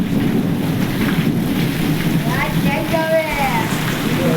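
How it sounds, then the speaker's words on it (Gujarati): Heavy monsoon rain in a Gujarat village courtyard, a dense, steady roar of falling water filling the whole stretch, with faint birdlike calls rising near the end. "અમારે બહુ વરસાદ પડે છે।"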